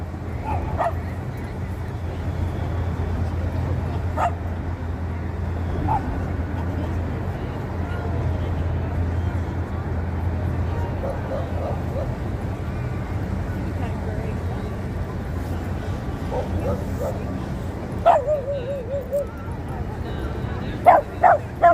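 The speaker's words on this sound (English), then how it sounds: "Stop barking." A dog yips and barks in short sharp bursts on a busy downtown New York City street, mostly sporadic and moderately close, with a few quick barks clustering near the end over steady city noise and people talking.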